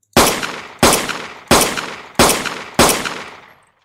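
Five loud pistol shots fired at a zombie in a Unity first-person shooter game, evenly spaced about two-thirds of a second apart, each a sharp blast with a short decaying tail, no voices.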